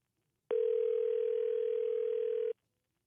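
A steady electronic telephone tone sounds for about two seconds at moderate level and then cuts off cleanly, alone against near silence.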